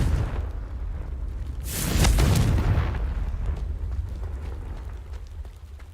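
A Confringo blasting spell from Hogwarts Legacy goes off in a loud, booming burst that swells after a quiet moment, then rumbles and slowly fades across several seconds.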